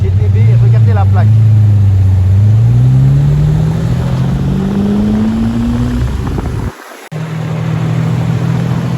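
A Ferrari 275 GTB on a Paris street gives a steady, loud engine drone that rises in pitch as it accelerates, close by, with a person talking over it before a sudden cut.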